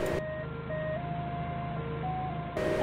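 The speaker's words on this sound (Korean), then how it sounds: "후방 센서는 이 소리만 들으면 되니까" A forklift's rear parking sensor sounds steady electronic tones that step between pitches in a short melodic pattern, close and clear over a low engine rumble while the forklift unloads panels in a narrow alley.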